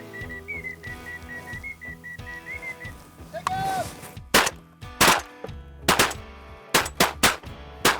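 Shotgun blasts while duck hunting on the Great Salt Lake, several sharp loud reports in quick succession, preceded by whistled duck calls and a wavering call sound.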